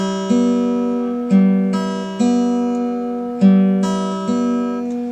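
A guitar plays a short repeating melody, a few plucked notes ringing out and decaying one after another, clear and close with no talking.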